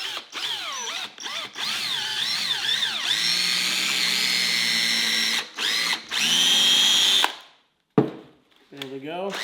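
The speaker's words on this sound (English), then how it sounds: "We're just going to take our drill," A power drill bores a starter hole into the neck of a rustic wooden reindeer yard decoration, whining in repeated bursts that rise and fall in pitch, then cutting off abruptly before a final short spin.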